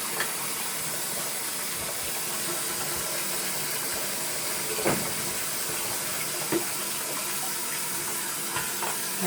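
Running water rinses a reef tank protein skimmer cup, a steady hissing tap stream splashing continuously with a few brief louder splashes, close and alone without talk.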